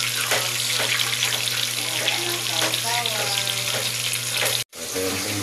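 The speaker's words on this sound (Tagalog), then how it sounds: "dito naman siya sa prito." Food frying in a pan for a home dinner dish, with a steady, close sizzle and crackle running throughout, broken by a brief silent cut near the end before the sizzling resumes.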